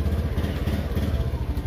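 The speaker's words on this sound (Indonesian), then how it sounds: "Dengan kunci kontak dihidupkan, motor dihidupkan ya" A Honda Beat ESP scooter engine idles close by with a fast, even low-pitched putter and light mechanical clatter, steady throughout.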